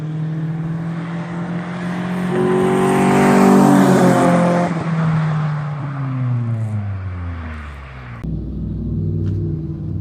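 A loud truck with no muffler roars past up close, its engine note swelling to a harsh peak and then sliding downward as it moves away.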